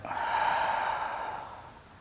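A long, steady exhale at the close of an intense cardio yoga workout, one smooth breath near the mic that fades gradually with no talk.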